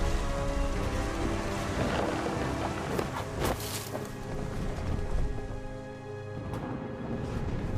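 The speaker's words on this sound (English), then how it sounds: "The thunder sounded much too close and full of angry power." Heavy rain hisses steadily in What Remains of Edith Finch, with thunder rumbling through the downpour at a constant, loud level, and no talk over it.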